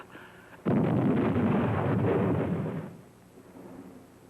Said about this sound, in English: That explosion was one of our mines.